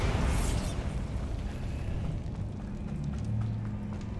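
Bombarda blasting spell going off in a video game: a loud burst at the start that decays into a sustained rumbling roar with a faint hum underneath.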